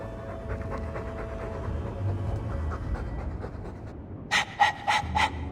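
Fast, rhythmic dog panting close by in the video game Dragon Age II, ending with several louder, sharper breathy huffs.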